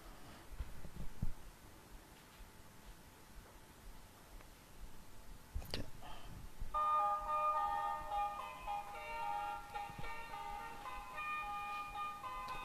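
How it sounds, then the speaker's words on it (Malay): A sampoton, the Sabah mouth organ made of bamboo pipes joined to a gourd with beeswax, plays sustained, reedy chord tones. They enter after a quiet stretch and continue steadily to the end, moderately close. "Saya satu contoh muzik sampoton ni"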